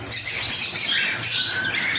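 Pet lovebirds chirp in rapid, continuous high twittering, loud and close, with a low hum in the background and no talking.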